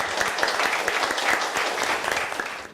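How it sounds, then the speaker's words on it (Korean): Steady applause from a conference audience welcoming a speaker, dense and even throughout before fading at the very end. "여러분들 힘찬 박수로 맞아주십시오"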